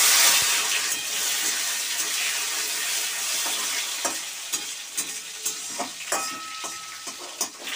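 Cut tomatoes fry in a pan with a bay leaf and two dried red chillies, giving a close, loud, steady sizzle under a run of soft stirring knocks and scrapes, with no talking.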